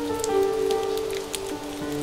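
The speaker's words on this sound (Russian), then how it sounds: "дождь лил 8 недель подряд, и никто никогда не слыхивал о чем-либо подобном" Heavy rain in an audio play, a steady patter of drops on a surface with a faint tonal hum underneath, continuous and fairly close throughout.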